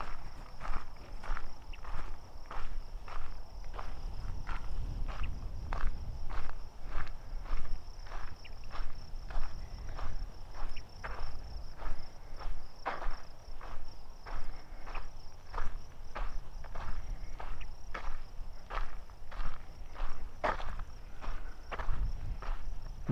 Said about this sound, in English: Sound a little bit like crickets.